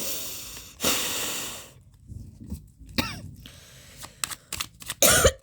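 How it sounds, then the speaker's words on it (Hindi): A woman giving a tarot reading coughs several times close to the microphone, with one long rough fit, then shorter hacks and throat clearing separated by breathy pauses. "एक तो यार खांसी से परेशान हो रही हूँ"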